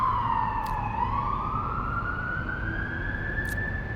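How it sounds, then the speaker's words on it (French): Fire engine and police sirens pass along a street in a steady, loud wail that glides down and then rises again. Brief airy noises are heard faintly beneath the sirens. "on va attendre que les pompiers, la police ait passé"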